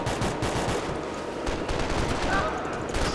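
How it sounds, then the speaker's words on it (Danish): Rapid gunfire in the video game Max Payne 3, a dense, continuous stream of loud shots like automatic fire, mixed with people talking over it. "Så bare hør efter skuden."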